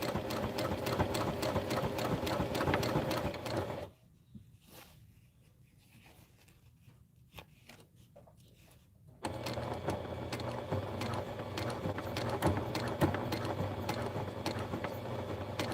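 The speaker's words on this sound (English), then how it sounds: "then you're going to sew all the way across" Sewing machine stitching across a thick seam, running loud and steady with a rapid mechanical chatter, pausing for several seconds of quiet handling, then starting up again at full speed.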